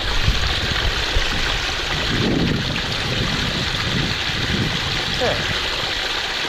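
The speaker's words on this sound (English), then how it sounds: "how about a nice peaceful shot of a waterfall in the sun?" Waterfall in sunlight, a steady broadband rush of falling water close to the microphone, with wind buffeting and a brief spoken word near the start.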